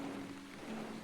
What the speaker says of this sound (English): And back to a rain cloud.